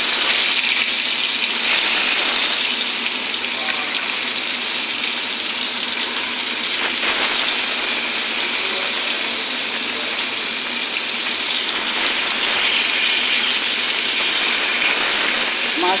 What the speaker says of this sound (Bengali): মাছটা কড়া করে ভাজা করে নেব।